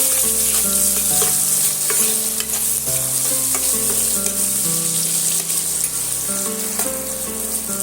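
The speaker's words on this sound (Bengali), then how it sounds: "পেঁয়াজটা দিয়ে আবারও আমি সুন্দর করে একটু লাল লাল করে ভেজে নেবো" Chopped onions frying in a pan for a rice, egg and potato dish, a steady loud sizzle with scraping stirring strokes throughout, alone without any talk.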